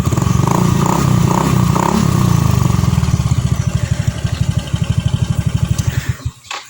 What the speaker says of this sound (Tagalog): nagana na yung motor. Wala naman siyang usok.